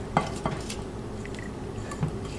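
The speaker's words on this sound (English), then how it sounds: "You don't want this batter to be smooth, so you want to lightly mix your batter." A utensil lightly stirs flour into banana bread batter in a bowl, giving soft wet squishing with a few sharp clinks against the bowl, close and quiet with no talk.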